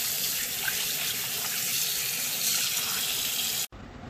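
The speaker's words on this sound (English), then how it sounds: "cool it down immediately with fresh water, and then rinse the pork with your hands." Pork being rinsed by hand under a running kitchen tap gives a loud, steady hiss of water splashing into the sink, which cuts off abruptly near the end with no talking.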